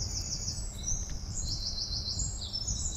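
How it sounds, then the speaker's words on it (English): Birds sing steadily in London at five in the morning, high repeated chirps and trills carrying over a low constant hum of the quiet city, with no voices. "No sound but the birds."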